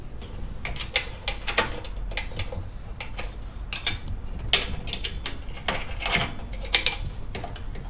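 A wrench tightens bolts on the post cap of a DIY Harbor Freight manual tire changer, producing repeated sharp ratcheting clicks in irregular bursts, close and crisp over a quiet background.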